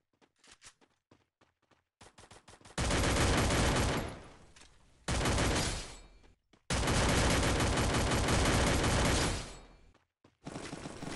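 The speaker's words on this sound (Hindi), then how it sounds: "हम पीछे से फायर नहीं करते, पर क्या करें, फ्री फायर में करना पड़ता है" Rapid automatic gunfire from the Free Fire battle-royale game arrives in loud sustained bursts, separated by short lulls and scattered single shots.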